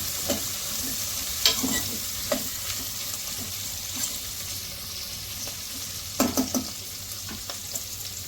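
Potato, carrot and cauliflower sizzle and frying in a pan as a spoon stirs them, with a steady hiss broken by several sharp scraping and clattering knocks of the utensil against the pan.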